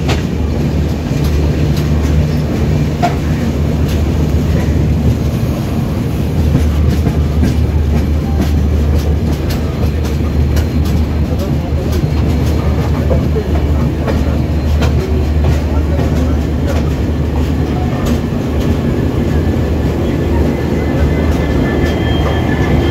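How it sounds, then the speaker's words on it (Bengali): Garib Rath Express rolling into New Jalpaiguri Junction after passing a goods train, with a loud, steady rumble and clickety-clack of wheels close by throughout. "একটা গুডস ক্যারিয়ার ট্রেনকে অতিক্রান্ত করে ট্রেন এখন ক্রমশ ঢুকছে নিউ জলপাইগুড়ি"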